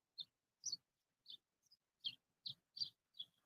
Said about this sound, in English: I don't know if you can hear the birdies in the background